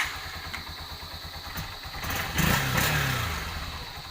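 A motorcycle engine idles with a rapid low putter, then revs up briefly and settles back down.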